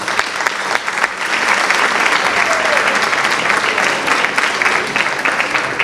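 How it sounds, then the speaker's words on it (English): Loud, sustained applause from an indoor audience at a Turkish police association awards and solidarity gala in London, honouring two police officers: dense continuous clapping lasting several seconds, rising quickly and tapering slightly near the end. "A round of applause for our two officers,"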